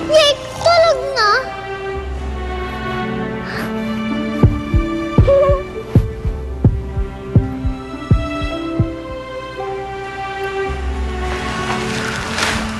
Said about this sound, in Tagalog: Pinapakinggan ko lang po ang tibok ng puso ni Itay.